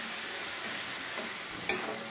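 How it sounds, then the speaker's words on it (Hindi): Tomatoes and garlic paste frying in a pan for sabut moong dal, with a steady close sizzle, one brief sharp clink or stir near the end, and no talking. "टमाटर को गलने तक पका लेते हैं।"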